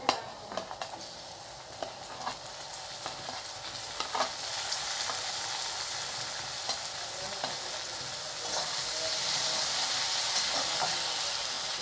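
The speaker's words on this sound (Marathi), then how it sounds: "आपला कांदा थोडा होत आला आता त्यात टाकूया टोमॅटो" Chopped tomatoes go into onions frying in a pan for a vegetable dish. A crackling sizzle builds and holds steady, broken by occasional stirring clicks near the start.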